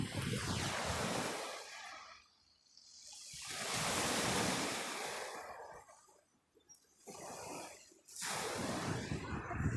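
Ocean waves crash and wash up a shoreline in slow surges. Each loud, broad rush of water fades into a quieter lull before the next breaker rolls in, with some wind rumble underneath.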